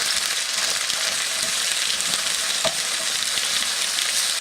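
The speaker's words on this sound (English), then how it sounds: "While the steak is cooking on one side, I've also now put in some mushrooms and tomatoes on the other." Steak sizzles in a hot pan alongside mushrooms and tomatoes, a steady loud crackling fry running throughout with a few small pops and no talking.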